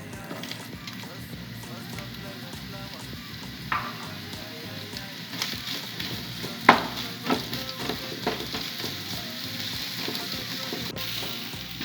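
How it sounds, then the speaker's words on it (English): Onions fry in a small amount of oil over medium heat, giving a soft, steady sizzle with occasional stirring clinks and scrapes from a nearby pan. "The onions are cooking."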